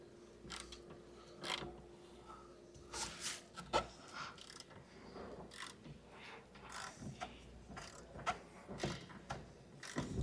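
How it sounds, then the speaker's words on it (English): A sunroof bypass on a Genesis G70 with a stuck sunroof being turned counterclockwise by hand, giving a steady run of small mechanical creaks and ratcheting clicks close up over a faint hum. "So right now I'm screwing it counterclockwise to move the headliner right now or the blinds."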